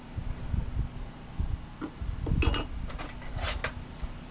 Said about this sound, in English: Alright, we're taking the bolt completely out. And we're going to pry it.